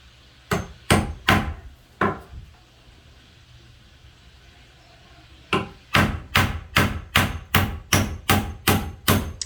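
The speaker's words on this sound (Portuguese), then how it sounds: "Essa madeira está sendo pregada na parte inferior" Hammer nailing a board into the underside of a wooden frame during room decorating: a few sharp blows, a pause, then a steady run of about ten evenly spaced strikes, close and loud.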